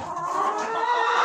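Several laying hens cluck and chatter together in a steady, continuous stream, close by, with no talking.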